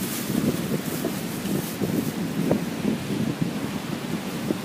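Wind gusts across a beach mic in an uneven, blustery rumble with a faint wash of surf beneath, steady and close throughout.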